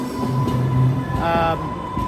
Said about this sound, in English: This train only goes about 5 or 6 stops up the track.